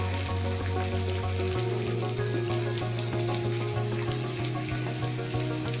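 Chopped onions frying in oil in a wok for a spiced potato filling, giving a steady, close sizzle throughout with a low tonal hum underneath.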